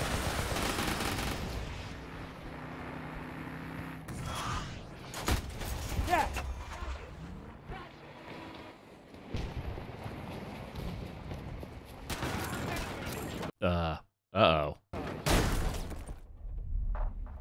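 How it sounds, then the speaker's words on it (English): Rocket pods fire from an attack helicopter in a Battlefield game, with repeated bursts of launches and loud blasts spread across the stretch, some crackling explosions near the end and a noisy battle mix throughout. "Still trying to get the hang of these rocket pods for the bolt"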